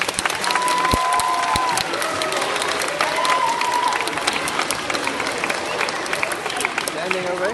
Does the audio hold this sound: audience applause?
yes